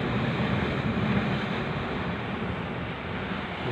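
Sea waves and wind on the coast roar as a dense, continuous wash of broadband noise, loud and close, with gusts buffeting the microphone and no talk.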